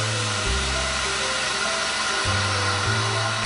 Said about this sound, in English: degas the mixture. This is something else you do with a vacuum machine.